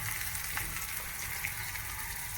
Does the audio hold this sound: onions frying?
yes